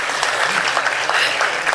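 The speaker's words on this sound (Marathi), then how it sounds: "आणि ऋषिकेशसाठी सुद्धा जोरदार टाळ्या." A live audience applauds at a Lavani song medley performance, with brief, dense and loud clapping that fills the whole moment.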